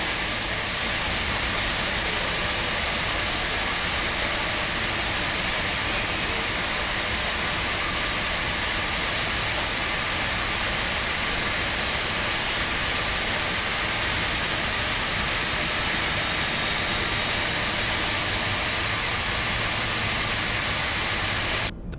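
Engine number 2 of a 1970s Boeing 747 in a flight simulator game starts up as a steady, loud roar that holds for the whole stretch, a broad hiss with a whine over it and no talk.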